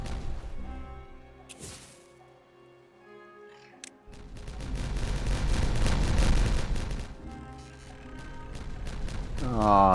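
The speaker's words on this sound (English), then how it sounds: "Explosions!" Explosions in the Timberborn video game, with a loud rumbling burst of crackling blasts starting midway and staying heavy for several seconds, layered over game music and effects.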